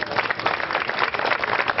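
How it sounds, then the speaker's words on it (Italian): Audience applause at a music festival evening, steady dense clapping from a crowd throughout, fairly loud and continuous. "volevo dedicare questo applauso a loro"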